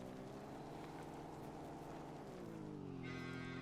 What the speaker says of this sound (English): that'll give us 80 cows animated on the map